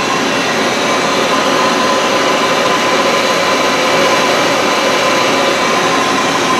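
Citizen M(3)20 Type III CNC Swiss lathe turret with driven tools running, a steady, continuous mechanical whine and hum with gear noise, loud and close throughout with no talking.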